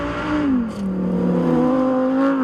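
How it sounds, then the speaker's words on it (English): Lamborghini Huracán Sterrato engine revving steadily while drifting, a loud, sustained close-up engine note that rises and dips in pitch with throttle changes. "I feel like a child driving and drifting the Sterrato"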